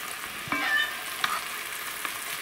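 Dinner sizzles and fries in a pan at home, a steady close crackling hiss broken by a few sharp stirring clicks, with no talking.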